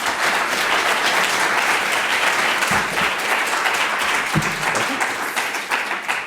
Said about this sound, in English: Another clap for our speaker,